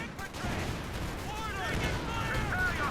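Bofors and mortar barrages rumble in Company of Heroes 2, a dense roll of distant booms and crackling impacts running under continuous battle noise and a commentator's voice.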